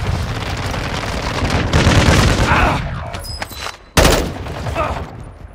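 Loud bursts of close gunfire in Call of Duty Modern Warfare II, a dense volley for the first few seconds, then a lull, a sharp blast near the four-second mark and more shooting as a voice calls out over it.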